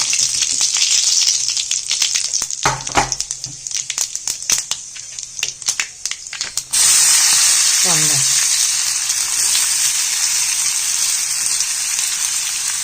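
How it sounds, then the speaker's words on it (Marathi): Cumin and mustard seeds hitting hot oil, a burst of sharp crackling pops and rustles that swells into a loud, steady hiss of sizzling close by. "जिरा ना राई मोहरी टाकून घ्यायचे आणि थोडासा जिरा"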